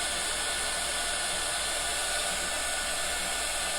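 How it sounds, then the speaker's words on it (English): A hair dryer, switched on while setting ink on a T-shirt, blows with a loud, steady, close whoosh across the whole stretch. Any change in speed is not clearly apparent. "My dryer changes speeds"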